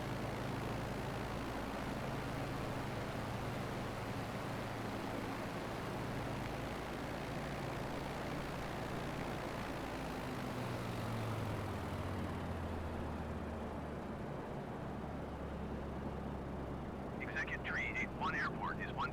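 Steady low engine drone of a plane flying in Flight Simulator while slowing down to come in low toward a Chicago airport, continuous and fairly loud throughout, with a brief burst of voice chatter near the end.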